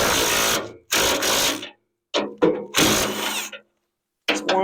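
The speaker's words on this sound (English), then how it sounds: "Basically all I'm doing is taking the bolt out" A snowblower's bolts being loosened and backed out with a ratcheting tool, a close, loud mechanical clicking in several bursts separated by short pauses.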